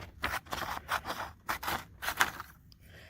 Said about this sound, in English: I am going to trim up the side just so we can get it even using my scissors.